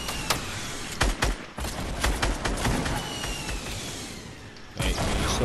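Video game gunfire crackles close by in sharp, irregular bursts of shots over a noisy battlefield background, with a short lull before a final volley.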